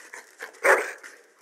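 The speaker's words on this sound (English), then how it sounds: "Bloody dog." A dog in the Dragon Age Origins video game gives a single loud, close bark, with faint panting and whimpering sounds just before it.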